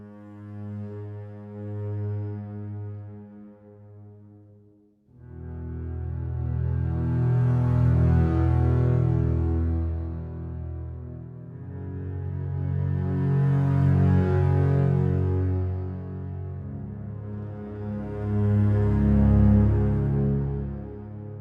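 Sustained low bass strings from the Spitfire Audio Chamber Evolutions library, grid and wave patch, swelling and receding in slow waves of deep sustained notes, with no voices.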